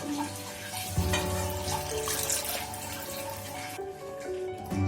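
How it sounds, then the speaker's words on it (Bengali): Water splashing and running over boiled Maggi noodles, a steady close pour like a tap into a pot or sink, with a small clatter near the start and the flow thinning toward the end. "গরম জলটা ফেলে দিচ্ছি, এবারে ঠান্ডা জল একটু দিয়ে দেবো"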